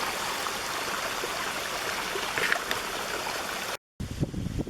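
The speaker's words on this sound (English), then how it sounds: "it was all filled up with water, and now it's" Water pours steadily out of an old abandoned mine beside a disused railroad bed, a continuous rushing stream that drops out briefly near the end and then resumes.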